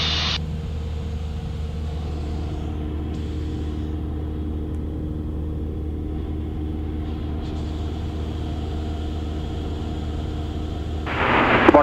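A Cessna Centurion's engine drones in flight during a GPS approach, a steady, even cabin rumble that holds for the whole stretch and swells slightly louder at the end.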